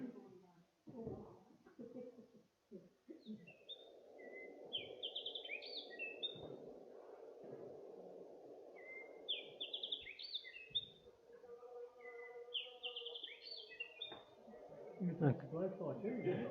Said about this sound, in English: So shy heath wren is the second one.